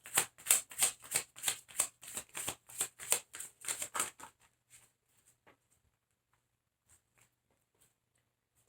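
Tarot cards riffle-shuffled in a rapid run of about a dozen crisp flutters, close and clear, then a few soft, sparse taps and slides as cards are drawn before near silence.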